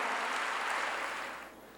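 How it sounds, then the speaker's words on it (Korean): A church congregation applauds during a pastor's sermon, a dense patter of many hands that fades gradually over a couple of seconds. "박수로 하나님께 영광 돌려가지고."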